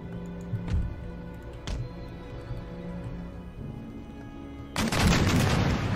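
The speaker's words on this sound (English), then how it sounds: "Oh, a lot of artillery." Artillery in an Empire Total War battle booms in a few distant, widely spaced reports, with a sudden heavy roar of massed cannon and musket fire breaking out near the end.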